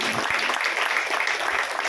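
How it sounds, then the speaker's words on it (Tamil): An audience applauds coordinators at a community event about self-employment opportunities for women, giving a dense, continuous wash of clapping that stays steady and fairly loud throughout. "அந்த மூணு பேருக்கு நல்லா ஒரு கைதட்டுக்கலாம்"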